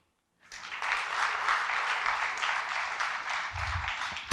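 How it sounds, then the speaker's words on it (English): Audience at a memorial lecture claps in a big, sustained burst of applause that starts abruptly and holds evenly, a dense room-filling patter with a faint low thump near the end. "I request all of you to put a big clap for him."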